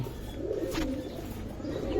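Pigeons of Giribaz and high-flyer breeds coo softly and repeatedly at close range, low throaty calls rolling on continuously over faint background noise.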